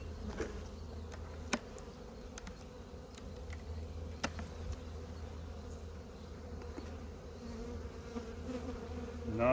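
Honey bees humming steadily inside an opened hive of small, weak colonies, a faint continuous buzz with occasional sharp clicks and knocks of hive handling nearby.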